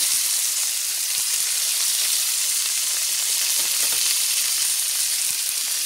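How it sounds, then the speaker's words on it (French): Duckling leg pieces sear in a very hot pan with little oil, giving a loud, dense, continuous sizzle that stays steady from start to finish, close up with no voices. "Quand la poêle est très chaude, je vais mettre des morceaux, voilà, liés, pas beaucoup d'huile"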